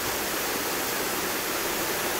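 A waterfall pours with a dense, steady broadband rush of falling water, loud and close, unchanging throughout and with no voices.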